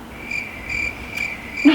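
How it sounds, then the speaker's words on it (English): Crickets chirp steadily in short repeated pulses, a quiet insect trill with no talking. "Crickets."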